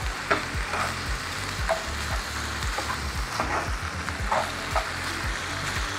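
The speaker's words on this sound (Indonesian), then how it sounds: "Ini kita aduk lagi. Oke, kita masak sampai dia mateng." Ground beef with some fat in it frying and being stirred in a pan with tomato sauce for homemade tacos, a steady close sizzle broken by repeated scraping strokes of the spoon, with no talking.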